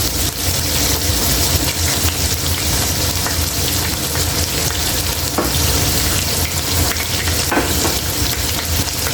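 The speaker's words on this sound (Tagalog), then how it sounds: "prito muna natin yung atay para ano siya, ganyan, prito, para hindi siya madurog" Steady, loud sizzling of liver frying in hot oil, a continuous crackling hiss with occasional pops and stirring, no voices.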